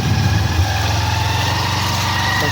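Motorcycle engine running while riding through a forest, a close, loud, steady low idle-like throb with a faint whine above it, brief and continuous.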